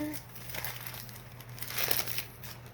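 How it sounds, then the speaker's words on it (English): Wrapping paper crinkles and rustles as a wrapped Christmas surprise box of nail products is shifted about, a close, steady papery crackle that swells slightly toward the end. "And then you move the paper."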